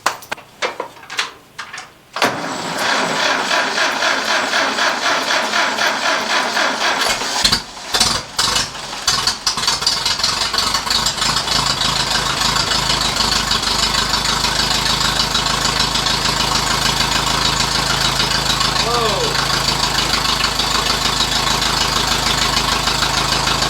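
An old car engine idling steadily up close, a loud continuous rumble after a few clunks and a sputtering start.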